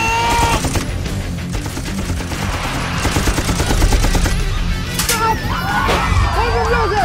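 In an action film trailer, dense rapid gunfire rattles in bursts of shots and volleys, loud and close, mixed with shouting voices and dramatic background sound.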